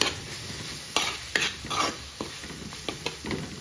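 Spiced jackfruit with turmeric and garam masala stirred in a frying pan, a soft sizzle under repeated scraping and clinking strokes of a spoon at an uneven rhythm, close by.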